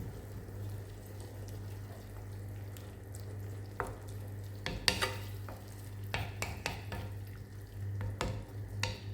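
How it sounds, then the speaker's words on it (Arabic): Water and mushroom sauce with orzo-style pasta and chicken balls simmering in a pan, a low steady bubbling hum with scattered stirring scrapes and clinks of a utensil. "ونخليه يغلي شويه."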